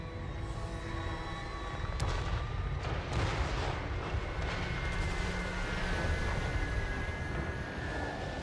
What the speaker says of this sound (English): Soldiers of the Empire! Cannons, fire! Mortar! Fire!